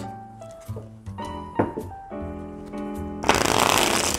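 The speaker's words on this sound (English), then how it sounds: "It's time for the shuffle test." A deck of Cat Lady board game cards is shuffled at close range, a short riffle ending in a loud, dense flutter of cards, heard over a tonal musical backing.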